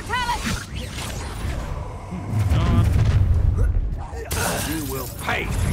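Spell blasts from combat in the Hogwarts Legacy video game: loud booms and shattering bursts. They overlap in a dense, continuous clash, with a voice heard among them.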